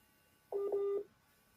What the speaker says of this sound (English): his phone is reconnecting.